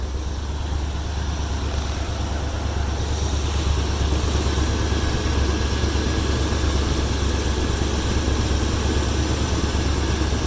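An army truck engine idles after a cold start in a loud, steady, close droning rumble that holds evenly throughout with no break.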